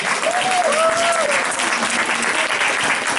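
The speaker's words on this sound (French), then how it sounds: "Vous pouvez l'applaudir." Steady, dense audience applause fills a women's entrepreneurship trade show award moment, continuous and loud throughout, with a faint voice briefly audible over the clapping.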